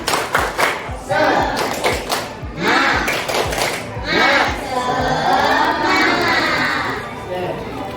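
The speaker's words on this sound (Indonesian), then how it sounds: "Sekarang tepuk semangat dulu." Elementary schoolchildren perform a rhythmic clapping chant in class, with patterned claps alternating with shouted group chanting, loud and close throughout.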